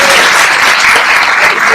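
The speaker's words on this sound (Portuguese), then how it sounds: "uma salva de palmas para o nosso mestre de cerimônia." A short burst of loud, dense audience clapping at a lecture event at the Centro Brasileiro de Pesquisas Físicas in Rio de Janeiro, steady throughout.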